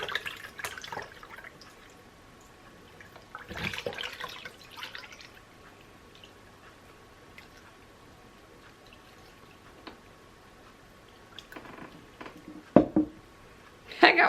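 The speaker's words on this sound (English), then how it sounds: "Just going to carefully pour this through." Homemade apple cider vinegar poured carefully through a strainer, with faint trickling and dripping in short bursts between quieter pauses and a couple of sharper splashes near the end.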